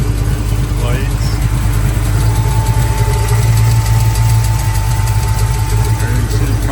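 A 1980 Chevrolet Blazer with a stout, slightly cammy motor, headers, competition rocker arms and MSD ignition idles close by, a loud steady low rumble with a faint lopey pulse throughout.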